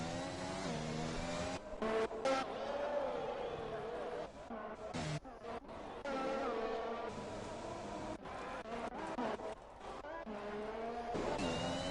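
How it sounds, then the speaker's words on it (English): Formula 1 cars from F1 2021 at the Mexico circuit, engines whining and revving as cars pass and one leaves the pits, with steady high-pitched engine tones rising and falling under a commentator's voice. "Roy Huntsman now leaving the pits."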